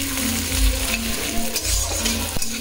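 Onions fry in a pan over a home stove for a Bengali family meal, giving a steady, close sizzle with a few soft stirring touches and a faint tonal hum underneath.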